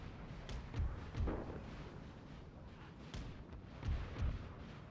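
French artillery cannons fire during a Napoleonic battle in Total War: a steady rumbling din of distant booms and thuds, with several heavier low blasts scattered through it, fairly faint overall.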